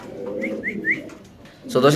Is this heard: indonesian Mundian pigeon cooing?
yes